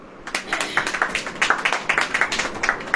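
A church congregation claps along in a steady rhythmic beat during a Hindi worship service, many hands striking together in a lively, even pulse that fills the room for a few seconds.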